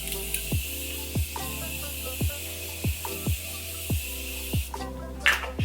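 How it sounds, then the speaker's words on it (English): Morphe Continuous Setting Mist is sprayed at a face in a rapid series of about eight short, evenly spaced pump bursts, each a soft close hiss, and a louder hiss comes near the end. "This is my Morphe Continuous Setting Mist. I'm just going to spray it down."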